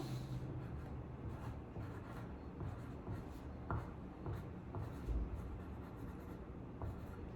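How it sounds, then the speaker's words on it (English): Pen or pencil writing on paper during a phonics lesson, a steady scratchy rubbing that continues for several seconds, close and fairly quiet with small shuffles of paper. "Go ahead and write that down."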